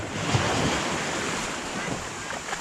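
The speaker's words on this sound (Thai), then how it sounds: "โอ้ยคลื่นแรงเนอะ" Strong waves surge through a water park wave pool, a steady broad wash of churning water with a windy, close-miked roar and no clear speech.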